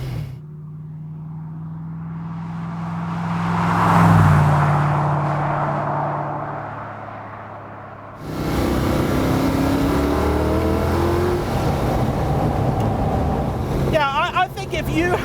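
A Gardner Douglas T70 retro sports car accelerating hard, its engine swelling to a loud rising roar then surging again after a brief drop, with heavy wind buffeting over it.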